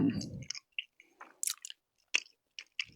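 Gummy bear candies being chewed close up, soft squishy bites and wet mouth clicks in short separate bursts with quiet gaps, no talking.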